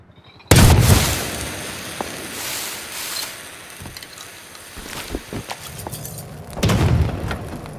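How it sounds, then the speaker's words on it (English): Grenades explode in a video game, starting with one loud sudden boom, then smaller thuds and pops, and ending with another heavy blast. "someone's been throwing damn grenades out there"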